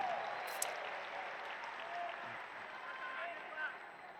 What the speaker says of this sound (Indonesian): Boleh tepuk tangan buat semua yang hadir di sini.